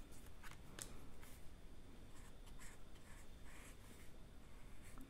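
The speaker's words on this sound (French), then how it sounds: "Voilà, on vient colorier juste le bord." A pencil scratching steadily across a bullet journal page, colouring just the edge in pastel blue, with soft continuous rasping strokes, close and quiet, with no talking.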